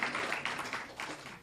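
Audience applause for the president at a talk: quiet, diffuse clapping from a crowd, brief and fairly even, heard at a slight distance.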